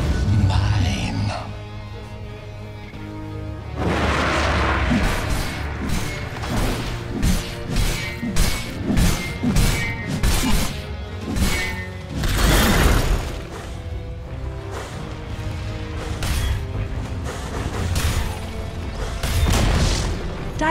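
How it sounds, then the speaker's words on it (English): A tower being destroyed in the Dota 2 video game, heard as repeated crashing smashes and thuds with whooshes and mechanical clanks, mixed in with game voice lines and effects. "Dire's top tower has been denied."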